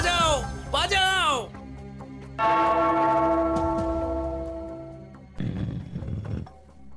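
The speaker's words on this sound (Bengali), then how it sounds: "ওই ঘন্টাটা বাজাও, বাজাও।" A cartoon bell is struck once and rings out in a long, loud, sustained tone that slowly fades, with animated voices shouting briefly before and after it.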